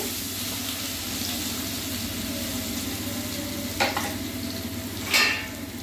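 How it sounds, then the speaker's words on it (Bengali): Raw mango pieces fry in oil in a pan for a chutney, giving a steady broad sizzle with two short clatters of stirring near the end, close and without voices. "দেখুন আমটা কি সুন্দর ভাজা ভাজা হয়ে এসছে।"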